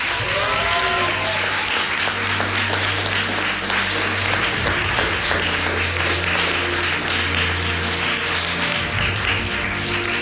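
Sustained applause from an award ceremony crowd for team CLG after the IEM Season IX Cologne tournament, dense steady clapping filling the hall for about ten seconds with a low musical hum beneath.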